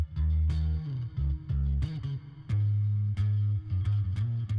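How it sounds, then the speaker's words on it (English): Bass synth line run through an effect rack, its high channel processed by chorus and then a saturator, giving sustained, slightly distorted, thick low notes in a steady beat-making groove with no talking. "in the high channel, it goes through a chorus, and then it goes through a saturator."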